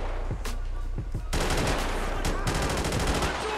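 Flare guns fire in a GTA V gang war, a rapid stream of loud, close gunshot cracks that thickens into near-continuous fire.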